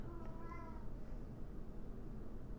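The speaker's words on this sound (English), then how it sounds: "My kitty could just calm down." A house cat meows a few times at close range, its short rising cries sitting over a steady background hum with no talking.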